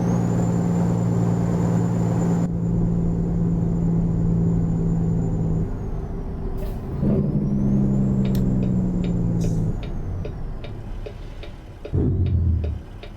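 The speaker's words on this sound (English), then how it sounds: "especially like listen to the Jakes" Jake brake engine braking on a big rig in American Truck Simulator gives a deep, throbbing harmonic rumble in two long stretches, joined by steady rhythmic ticking and a few sharp clicks and hisses near the end.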